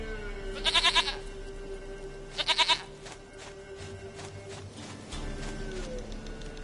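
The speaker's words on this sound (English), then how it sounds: "Goat of mine, dearest, sweetest goat." Goat bleats in The Witcher 3 video game: two short bursts of quavering bleating, a few seconds apart, standing out clearly over a low ambient game background with a steady hum.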